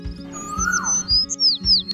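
Cartoon sparrow and cuckoo chirp in an animated children's story, bright high tweets and short rising and falling calls in quick succession over soft rhythmic low thumps, close and clear with no talking.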